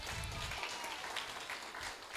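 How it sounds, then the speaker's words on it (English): Brief burst of audience clapping for honor roll scholars at an elementary school honors program, fairly faint and steady throughout. "clap it up for them."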